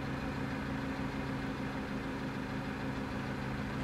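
A car engine with an overheating problem idles steadily at close range, a constant low rumble with an even hum and no change in pace.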